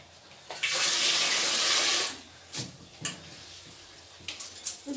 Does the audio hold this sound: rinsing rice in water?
yes